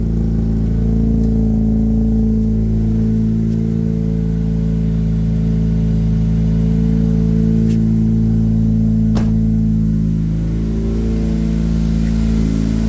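A Mazda RX8 with a bridgeported rotary engine runs loud and close, a steady rough idle with strong low harmonic drone and a few sharper blips of revving, the intake open with its net removed.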